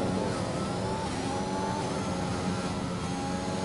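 An F1 2021 video game race car engine drones steadily, sputtering and cutting in and out without clear revving, fairly loud and close throughout.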